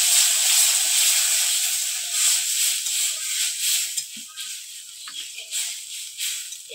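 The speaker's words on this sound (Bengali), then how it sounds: "কষানো হয়ে গেছে, এবার আমি জল দিয়ে দেবো।" Water poured into a pan of sautéed spices for a mourola fish curry, a loud hiss of steam that surges at first then slowly fades and bubbles, with a few rattles and no voices.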